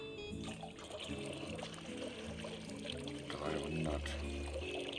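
In Bakery Simulator on PS5, water pours into a mixing bowl for rye dough, a steady splashing trickle over soft in-game background sound.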